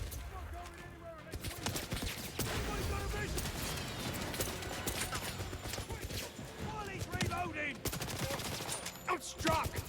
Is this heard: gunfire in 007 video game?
yes